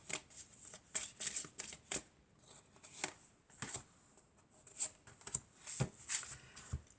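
Tarot cards being shuffled and drawn, with soft papery riffles and slaps in uneven bursts, close and quiet, no talking.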